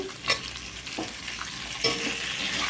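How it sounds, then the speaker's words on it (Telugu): Cucumber pieces frying in oil for a sambar, with a steady, close crackling sizzle and several distinct ladle scrapes and stirs against the pan. "ఇవి కూడా ఆయిల్లో ఒక నిమిషం పాటు అయితే వేగనివ్వాలండి చూడండి ఇప్పుడు దోసక ముక్కలు అయితే వేసుకుందామండి"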